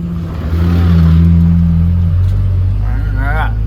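A turbocharged LS-swapped Mustang rumbles close by, its engine note rising as it revs and pulls away, a loud continuous drone with talk over the end.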